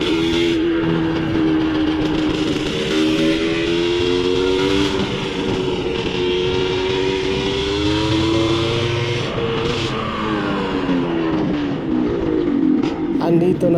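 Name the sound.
Rusi RXT135 motorcycle engine riding into warehouse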